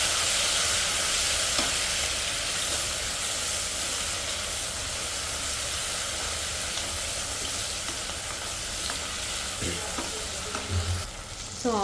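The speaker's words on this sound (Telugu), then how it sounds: "సో టమోటా కూడా వేగుతూ ఉంది." Chopped onion and tomato fry in a pan for vegetable rice, giving a loud, steady, close sizzle that runs throughout, with a few faint stirring scrapes and clinks near the end and no talking.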